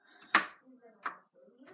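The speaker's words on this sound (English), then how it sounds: "And just keep chopping this up." A knife chops chocolate into chips on a board in a kitchen, two sharp distinct cuts about a second apart with a third starting at the end, close and clear, with faint voice traces between.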